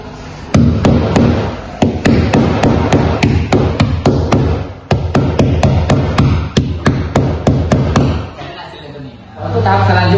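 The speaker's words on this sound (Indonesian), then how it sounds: "menggunakan alat tangan, yaitu palu untuk memasang pipa pada dinding" Hammer fixing a pipe to a wall: a long series of sharp, loud close-up blows in an irregular rhythm, with a voice speaking over the strikes and a short pause near the end.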